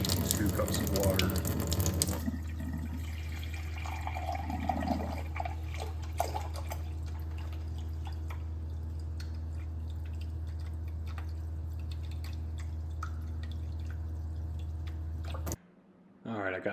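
Water from a Waterdrop G3P600 reverse osmosis system runs steadily into a cup, a continuous close trickle with a low hum underneath, lasting about fifteen seconds before cutting off.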